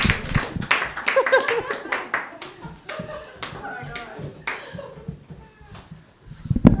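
An open-mic stand-up comedy audience claps for a comedian: scattered, fairly close hand claps that rise and fade over several seconds, with voices talking among them.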